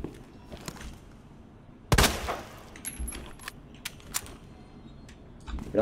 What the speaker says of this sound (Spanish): Me ha hecho disparar un montón de veces, tío.